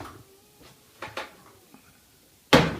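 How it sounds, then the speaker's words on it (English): A kitchen oven door is handled as a crumb cake pan goes in, giving a few soft clicks and light knocks and then one sharper, louder thud as the door shuts, close by in a quiet room. "I'm going to put this in my oven for 15 minutes."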